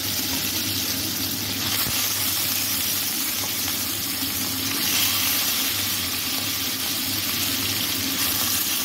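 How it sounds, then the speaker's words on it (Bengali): Pieces of rohu fish frying in hot oil, a loud, steady hiss and crackle of sizzling that fills the whole stretch without pause. "তেলটা গরম হয়ে গেছে, মাছগুলো ছেড়ে দেব।"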